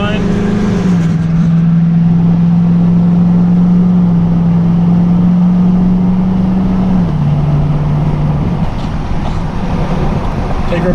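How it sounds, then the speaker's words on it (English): A truck engine pulls a trailer along a two-lane highway, a loud steady drone that holds one pitch, then drops with a gear change, under heavy wind and road noise, with someone talking. "Pulling just fine, going through the gears just fine."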